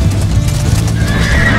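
A horse in the medieval video game Life is Feudal neighs loudly up close over a quick drumming of galloping hooves, with no talk.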